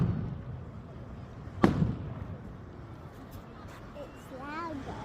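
A single loud firework burst at a seaside display in Cromer, followed by a fainter crackle, with people chatting nearby before and after the bang.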